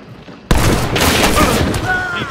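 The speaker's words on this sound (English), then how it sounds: "I'm getting shot at by a suppressor from behind." Suppressed gunfire in Hunt: Showdown, a sudden burst of rapid muffled shots that runs on as a dense rattling volley, loud and close.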